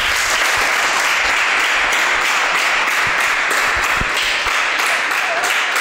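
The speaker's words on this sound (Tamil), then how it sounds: "எல்லாரும் ஒரு ரொம்ப சத்தமாக அப்படியே ஒரு கைத்தட்டலை கொடுத்துடலாம்" A crowd at a Pongal special program gives loud, sustained applause, dense clapping with a few sharper individual claps standing out near the front.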